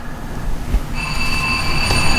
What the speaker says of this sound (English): So immediately it starts with the startup sequence of the locomotive.